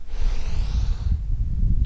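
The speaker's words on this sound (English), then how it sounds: "And then you'll be breathing in through your nose" A slow breath drawn in through the nose during a seated mantra meditation makes a soft, steady airy hiss that lasts about two seconds, close and alone.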